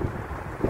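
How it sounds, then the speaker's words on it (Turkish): Wind buffets a smartphone microphone outdoors, a steady low rumbling roar with a couple of brief gusts, loud and close with no talking. "Hava rüzgarlı."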